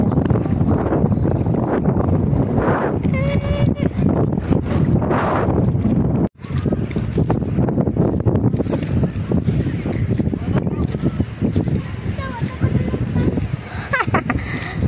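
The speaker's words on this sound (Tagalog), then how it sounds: "Wala nindot kay diring hangin. Kusog ayo." Strong wind roars and buffets the microphone steadily throughout, with a brief dropout midway and faint chirps in the background.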